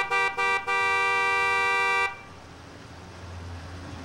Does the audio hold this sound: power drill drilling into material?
no